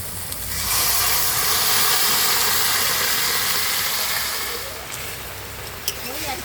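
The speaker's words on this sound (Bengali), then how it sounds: "সেদ্ধ করে রাখা কাবলি ছোলা ঢেলে দিচ্ছি।" Boiled kabuli chickpeas poured into a pan of fried spices for a curry, setting off a loud, steady sizzling hiss that lasts several seconds before fading slightly, close up.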